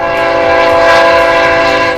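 A BNSF special train rumbles steadily while its horn sounds a long, loud, sustained multi-tone blast throughout.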